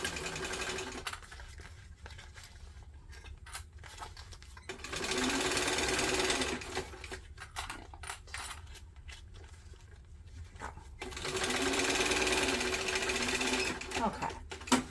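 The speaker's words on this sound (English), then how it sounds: "you're sewing over those strap connectors a little closer to the middle" A sewing machine stitches over the straps and strap connectors of a backpack, running in two long, steady whirring bursts with pauses between, close by, with a voice talking quietly during the stops.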